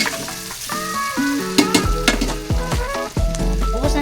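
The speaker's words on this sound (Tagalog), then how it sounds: "Medyo na prito-prito na siya." An ingredient for spaghetti sauce frying in a pan: close, crackling sizzle with stirring noises, alongside steady tonal sounds in the background.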